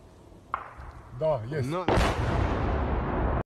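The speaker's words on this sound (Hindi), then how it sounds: "जैसे ही धमाका हुआ कान फाड़ देने वाली जोर की आवाज सुनाई दी" A sudden heavy blast from an explosion in the Russia-Ukraine war rips out after a brief shout, followed by a sustained roaring rumble that lingers loud and close.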